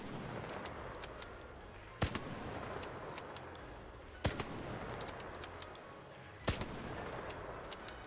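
Osprey rifle firing in the video game Arc Raiders, three loud single shots spaced about two seconds apart over steady background ambience.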